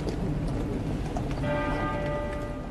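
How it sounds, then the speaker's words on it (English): Westminster Abbey's tenor bell strikes once halfway through, a clear sustained ringing tone rising over a loud, continuous rumbling background of crowd and outdoor noise. "At Westminster Abbey, a single chime of the tenor bell will be the signal for the soldiers to"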